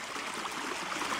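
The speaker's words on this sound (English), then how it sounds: "It's kind of almost a mini waterfall here." Water rushes steadily over a small waterfall in flat terrain, a continuous broadband hiss with no pauses that sounds close and fairly loud.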